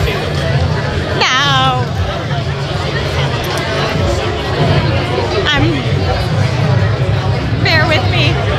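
A crowded indoor room at the PAX East Made in MA party with Boston Uprising fills with constant loud babble of many overlapping voices, and a few closer speakers stand out now and then.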